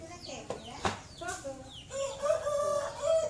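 A rooster crows and chickens cluck close by, with short squawks and a drawn-out crow toward the end, alongside a person speaking.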